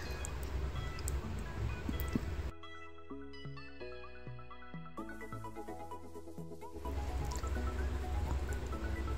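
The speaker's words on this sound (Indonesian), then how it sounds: "Nah ini gue main air dulu" Water splashes and rushes under Curug Luhur Cigangsa waterfall. The loud, steady wash fills the start and end, and a melodic run of plucked tones briefly cuts in and replaces it in the middle.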